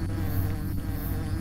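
Swarm of bees in a video game, a dense steady droning buzz that fills the scene, loud and unbroken, with no voices.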